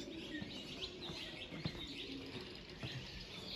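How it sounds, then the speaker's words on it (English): Birds chirp and tweet in short, scattered calls over a faint echoing background hum inside Carlsbad Caverns. "just listen to the birds chirping"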